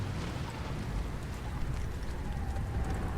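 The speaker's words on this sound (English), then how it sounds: "it's like a hailstorm" A hailstorm of ice chunks in Subnautica: Below Zero, heavy, steady pattering falling continuously, a dense hiss and rumble with no pauses, like a storm pounding the ground.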